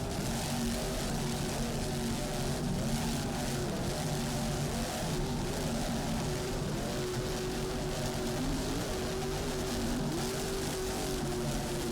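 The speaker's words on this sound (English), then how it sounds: "Let's listen to those engines." Mercury-powered offshore racing powerboats roar at speed in the 2002 Cape Cod race, a loud continuous engine drone with shifting pitch tones, steady and close throughout with no talk.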